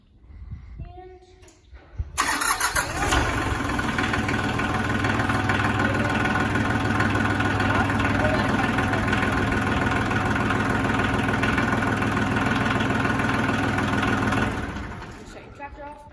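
A tractor engine cranks and catches after a quiet start, then settles into a steady, loud idle that runs for about twelve seconds before shutting down.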